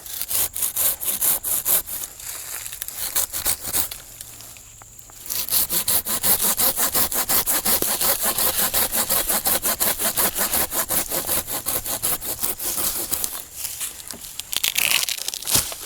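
A hand saw cuts through a wind-broken pine tree with steady, rapid back-and-forth strokes, loud and close, pausing briefly around the middle before the sawing resumes.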